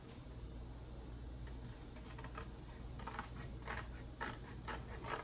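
Repeated crisp snipping and crunching of scissors working through cardboard, steady and close, with a low background hum and no voices.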